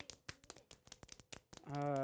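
Rapid, light finger taps imitating light rain patter unevenly in quick succession, then a voice begins speaking at the end.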